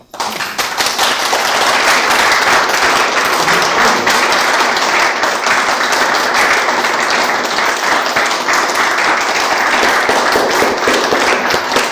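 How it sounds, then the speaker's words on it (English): Loud, sustained audience applause after a lecture on Thomas Jefferson, dense rapid clapping that starts abruptly and keeps a steady level for twelve seconds. "Applaud for Thomas Jefferson and for all the people around him."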